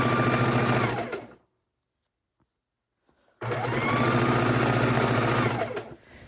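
A sewing machine stitching a quilt border made from precut fabric strips, with two loud runs of fast steady motor whirring and needle chatter separated by about two seconds of silence.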